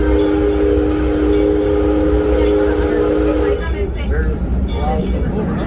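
Amusement park train ride at Six Flags Over Texas, its steady rumble and sustained whistle-like tone carrying for several seconds before giving way to rattling motion, with a park announcer's voice over the ride.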